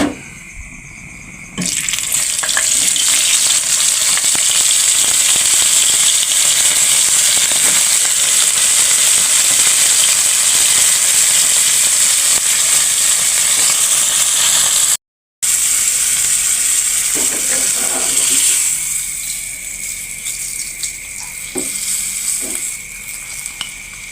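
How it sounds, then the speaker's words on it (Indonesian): Loud, steady sizzling of salted fish frying in hot oil, with occasional crackles and stirring clatter, continuing without talk. "Sekarang kita goreng ikan asin dulu."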